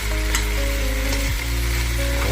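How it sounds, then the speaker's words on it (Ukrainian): Carrots, bell pepper and diced potatoes sizzle steadily in a hot pan, a constant close crackle with a faint low hum underneath and no talking. "І все це обжарюється."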